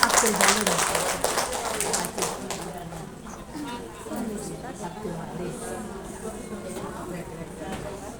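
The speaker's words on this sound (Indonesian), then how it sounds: "Beri tepuk tangan yang meriah" An indoor audience at a parenting talk bursts into loud, dense applause that slowly thins and fades, while a presenter's voice carries on over it.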